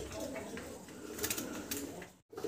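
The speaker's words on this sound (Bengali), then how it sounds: "ভিডিও স্ক্রিনে আপনারা দেখতেছেন এখানে সুন্দর আরও এক জোড়া কবুতর" Pigeons of a Black Tiger color pair coo softly inside a bird market stall. The low murmuring coos sit faintly in steady background hiss, with a short dropout near the end.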